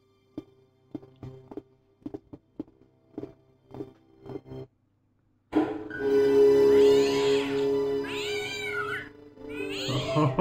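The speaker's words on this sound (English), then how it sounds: "Oh, black cat crossing your path?" Black cat in the Broken Sword video game: a few soft footsteps and taps in near silence, then loud, drawn-out meows, two or three close calls over a low ambient hum.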